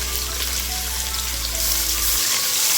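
Bay leaf, cinnamon and cloves dropped into hot oil for chicken biryani crackle and sizzle steadily up close, with a low hum cutting out near the end.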